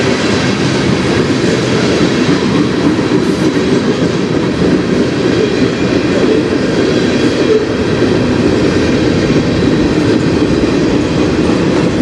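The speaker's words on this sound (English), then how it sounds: "Single locomotive, so it's either a short train or there's a DPU in there." A CN freight train with a single locomotive rolls past on the Strathroy Subdivision, a loud, steady rumble of wheels and cars with a continuous clickety-clack that holds for the whole stretch without letup.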